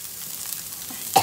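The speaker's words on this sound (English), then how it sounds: "So we sauteed it for 5 minutes" Vegetables sauteing in a pan for a chilli paneer dish give a steady, close sizzle with soft stirring, ending in a brief louder scrape or clatter.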